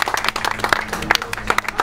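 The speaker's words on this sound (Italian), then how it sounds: "Applauso" Applause from a crowd at an amateur punching-bag fighting challenge event, a steady patter of clapping lasting the whole stretch with no voices over it.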